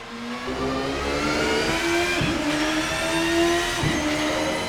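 A racing prototype car's engine in the video game Assetto Corsa drones loudly and continuously at high revs, with two quick gear-shift dips midway before the note climbs again.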